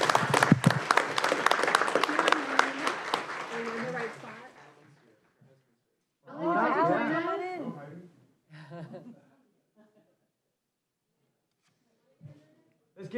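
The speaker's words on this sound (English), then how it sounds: "Let's give him a round of applause too." An audience at a county board of supervisors meeting claps in a brief burst that fades out, followed by people talking with a few scattered sounds.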